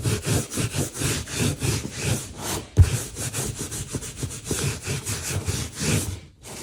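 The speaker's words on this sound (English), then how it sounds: "when you come buff all of those thick coats off, it still leaves antique in these little areas" Antique finish is buffed off a leather project with rapid back-and-forth rubbing strokes, a dense rhythmic scrubbing close up that stops briefly near the end, with no speech.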